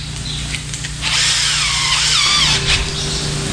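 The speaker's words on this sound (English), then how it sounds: "just drill me a couple little pilot holes." A power drill bores small pilot holes during DIY boat repair work, a close, loud whirring burst with rising and falling pitch after a brief quiet start.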